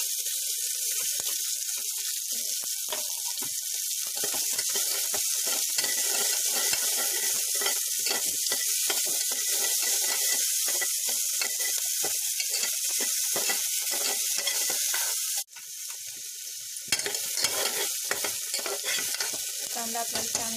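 Onion frying in a pan for jeera rice, a steady loud hissing sizzle with scattered crackles and stirring scrapes, briefly dropping out near the end before resuming, no voices.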